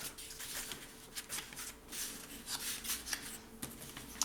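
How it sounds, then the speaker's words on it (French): Paper and thin card pieces for a scrapbooking folio are roughly folded by hand, producing soft close crinkles, rubs and light creasing snaps, quiet and without talk. "je fais un pli sommaire de tous mes morceaux"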